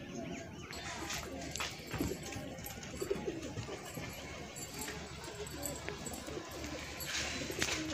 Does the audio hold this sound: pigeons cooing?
yes